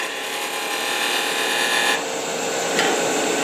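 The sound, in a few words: wood-turning tool cutting a bead on wood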